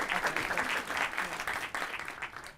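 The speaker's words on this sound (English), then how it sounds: "A round of applause for our panel." A studio audience applauds a panel on a television chat show with brisk, full clapping that swells and dips slightly, close and continuous, with no talk over it.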